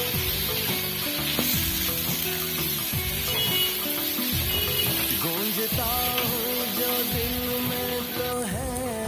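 A peas and gram flour mixture fries in mustard oil in a pan, a steady close sizzle with a bubbling crackle running throughout, joined by the scrape of stirring and no voices.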